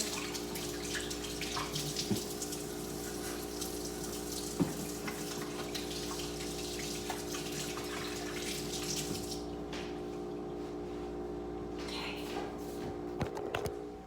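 Running water from a kitchen sink tap flows steadily while a measuring cup is set down in it, with a couple of light clunks and a low background hum, then the water cuts off near the end.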